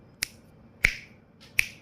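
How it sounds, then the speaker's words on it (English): Three crisp finger snaps, close and dry, spaced a little over half a second apart in an otherwise quiet room. "like, Thanos finger snap, right?"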